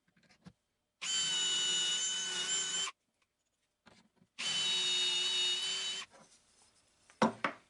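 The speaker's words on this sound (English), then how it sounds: "I just got to make sure that when I drill this down that I don't go any further than my tape" A power drill bores dowel holes into a solid maple king-size bed frame in two steady bursts of about two seconds each, separated by a short pause, loud and close, followed by faint clatter.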